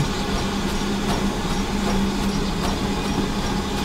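A model steam train runs with a steady rolling rumble and a faint regular clicking rhythm throughout, heard alone with no talk.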